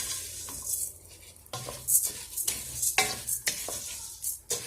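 Tomato-based red sauce for tlitli sizzles and bubbles in a pan, with a spoon stirring and scraping against the metal in repeated close bursts, no talk over it.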